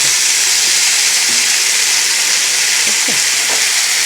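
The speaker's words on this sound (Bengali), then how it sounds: "আলুগুলো কেটে সাথে ভেজে নেবো" Cut potatoes fry in a pan of hot oil, a loud, even hiss of sizzling that holds steady from start to finish.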